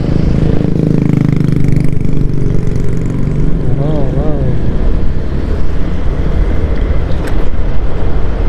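Wind buffets a microphone on a motorcycle speeding downhill, a loud, continuous low roar and rumble that fills the whole stretch, with a brief tonal whine partway through.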